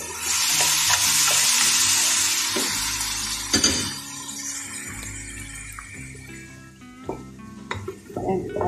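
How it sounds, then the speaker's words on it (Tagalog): Mung beans tumble into a frying pot of sizzling oil with clattering and scraping as they are stirred, in a near, steady frying sound broken by sharp pot and utensil knocks for Filipino mung bean stew with cream or coconut milk. "Tapos ngayon, ilalagay na natin ang ating munggo."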